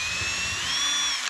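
A power drill turning a 1/16 bit to bore a pilot hole for cabinet hinge screws runs as a steady, close, high-pitched whine, its pitch rising slightly partway through the short burst.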